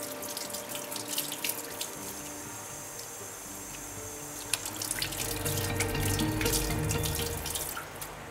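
Hands are washed under a running tap at a sink, steady splashing water with drips and rubbing, close and continuous with no talk.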